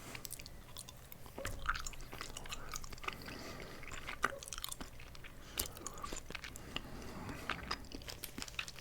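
Someone chews soft, chewy Halloween candy close to the mic, wet squishy mastication with small smacks and bites that repeat steadily, no talking.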